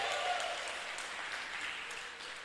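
A church congregation at a cell-group and discipleship seminar applauds a cell group, a steady wash of many hands clapping throughout, fairly quiet and evenly sustained.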